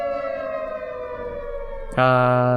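A video game siren wails, holding a steady drone, then abruptly jumps louder and fuller partway through.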